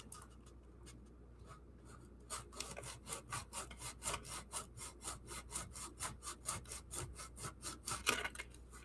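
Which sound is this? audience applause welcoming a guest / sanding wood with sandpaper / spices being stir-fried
sanding wood with sandpaper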